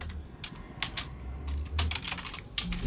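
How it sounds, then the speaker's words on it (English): Keys clatter on a computer keyboard during a Minecraft session, a quick, irregular run of close, crisp clicks with a few louder strikes, with no talk over them. "I had trouble fingering my keyboard there for a second"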